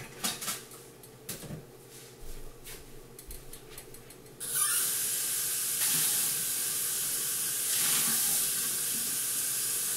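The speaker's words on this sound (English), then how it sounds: "I'm going to put some more water in there." Water poured from a tap into a cooking pot for boiling egglettes: a steady, loud rushing hiss starts partway through and continues to the end, after quieter clattering kitchen sounds.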